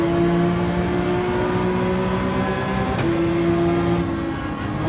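A Porsche 911 race car in Gran Turismo 7 launches hard on the Nürburgring, its engine droning loud and steady with a brief dip, as if from a gear change, before the tone holds again, with no voices over it.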